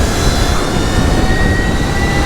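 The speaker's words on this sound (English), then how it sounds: "So let's see, full throttle here in sport mode." A replica Stark Varg electric dirt bike runs at full throttle in sport mode, a steady, loud, continuous whine and roar with wind noise. The sound stays at an even level throughout.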